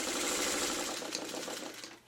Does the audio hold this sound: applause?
no